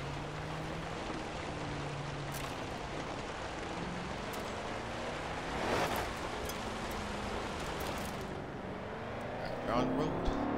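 A car driving in the racing video game Forza Horizon 4 gives a low, steady engine hum throughout with a few brief louder whooshes, sitting under faint background sound.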